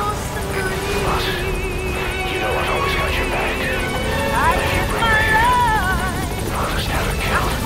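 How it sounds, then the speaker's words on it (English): Extraction helicopter arriving in a video game, its rotor and engine droning steadily and loudly throughout, mixed with voices and radio-like chatter over the top. "I'll send the extraction chopper."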